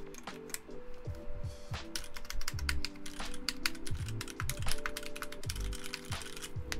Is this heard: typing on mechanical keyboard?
yes